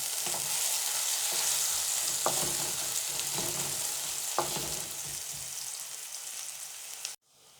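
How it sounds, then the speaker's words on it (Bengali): Chopped onion fries in oil with a continuous hiss and crackle, broken by several short scrapes and taps of a spatula, before the sound cuts off abruptly near the end. "সেজন্য আমি পেঁয়াজটা একটু ভেজে নিব।"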